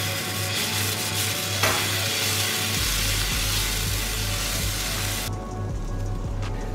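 Batter poured onto a hot tawa griddle sizzles loudly and steadily up close, with a dense hiss and a few small clicks from the pan.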